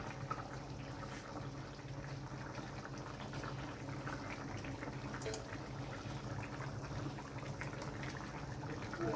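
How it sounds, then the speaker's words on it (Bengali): Fish curry broth with new potatoes and ridge gourd boils in a pot as pieces of fish are added, giving a steady, close bubbling and sizzling wash throughout with no speech. "ঝোলটা ফুটে গেছে, এবার আমি মাছগুলো দিয়ে দিচ্ছি।"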